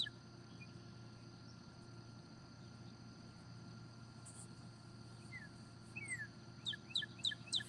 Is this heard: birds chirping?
yes